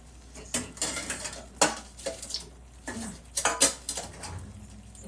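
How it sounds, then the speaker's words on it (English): Dishes and cutlery being loaded up clatter and clink in scattered bursts, close by, with ceramic knocks and metallic rattles at an uneven pace. "I gotta get dishes loaded up."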